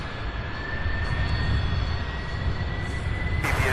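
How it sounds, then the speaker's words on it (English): An Airbus A300 jet takes off at night, its engines giving a steady, loud roar with a thin high whine on top, constant throughout. "So we're taking off next, an A300."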